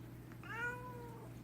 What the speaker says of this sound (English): got my inspector kitty.